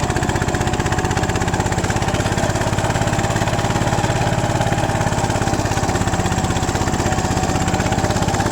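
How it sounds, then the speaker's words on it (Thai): A modified farm tractor engine pulls a disc plough cutting furrows in a field, running with a steady, loud, rapid chugging throb that stays constant throughout without pauses. "ตอนนี้รถไถคว่ำร่องอยู่นะครับ"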